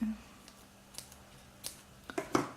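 Scissors snip crochet yarn at close range, a few quiet clicks followed by a sharper final cut near the end.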